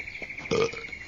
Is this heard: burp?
yes